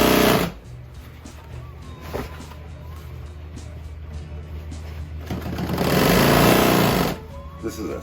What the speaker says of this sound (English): This is a smoking fast machine.